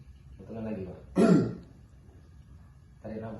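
A patient does an effective coughing exercise, giving a single forceful cough between softer breaths and throat sounds, close to the microphone.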